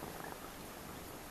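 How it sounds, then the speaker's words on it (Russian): A mostly outdoor stray cat purring while eating sausage in a workshop, a faint, soft continuous rumbling purr with no voices over it. "Кот такой частного сектора какой-то, уличный почти."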